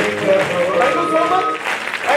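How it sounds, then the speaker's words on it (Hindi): Loud applause from a seated audience at a motivational leadership speech, a dense, steady roar of clapping with voices and tonal sound mixed in, then tapering slightly near the end. "एक बार खुद के लिए एक जोरदार ताली पर मार के दिखाइए"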